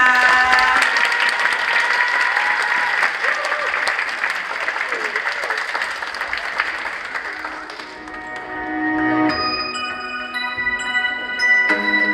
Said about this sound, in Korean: 함께 큰 박수로 이 팀 맞이하겠습니다. 큰 박수 부탁드립니다.